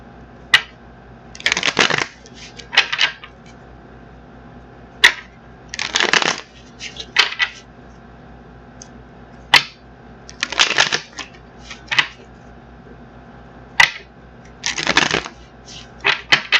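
Tarot cards being shuffled by hand in repeated bursts of riffling and flicking, each lasting about a second and separated by short pauses, close and fairly loud with no talk.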